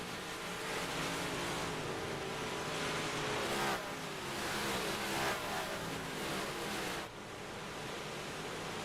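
358 Modified race cars running laps at Weedsport, a steady loud wash of engine roar filling the whole stretch, with a brief dip near the end as the pack passes.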